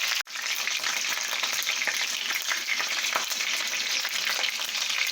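Meat browns in a hot pan with a dense, continuous sizzle and crackle, close and steady, after a brief sharp click right at the start.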